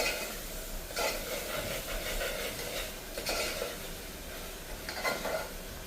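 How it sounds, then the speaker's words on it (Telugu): Masala for egg biryani sizzles and hisses in hot oil, a steady close frying noise with a few louder stirring bursts and no talk. "మసాలా అంతా చక్కగా ఫ్రై అయింది, ఆయిల్ పైకి వస్తుంది"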